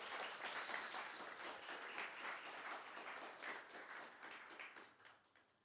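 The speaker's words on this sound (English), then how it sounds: "Give them a little round of applause," Audience applause for a group of young award winners being called up on stage at a national awards ceremony, steady dense clapping from a sizeable crowd that holds for several seconds and then starts to taper off.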